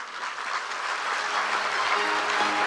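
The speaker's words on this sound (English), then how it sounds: "Please once again give a big round of applause to former Prime Minister of Armenia, Right Honorable Rat Bagration." Audience applause at a youth peace conference, a steady, dense wash of clapping from a large crowd that fills the whole stretch without talk.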